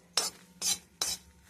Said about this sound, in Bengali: তো আমার প্রায় মোটামুটি মশলা আর শুকনো লঙ্কা ভাজা ভাজা হয়ে গেল।